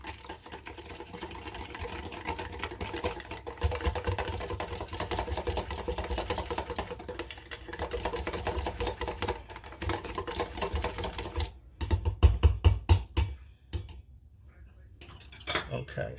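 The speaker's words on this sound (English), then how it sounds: "So we just whisk." Ingredients whisked briskly in a bowl in a home kitchen, a fast continuous metallic clatter of whisk against the bowl that runs steadily, then turns into sharper separate clinks before fading to quieter handling.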